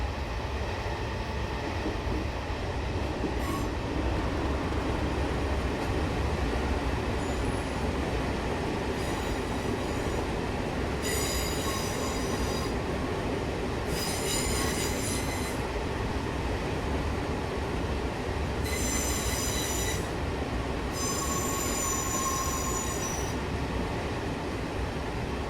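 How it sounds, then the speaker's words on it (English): Train wheels squeal in the Train Sim World 2021 game over a steady rumble of rolling rail cars, with several high-pitched screeching bursts recurring through the run and no talk. "Let's try a better flying squeal."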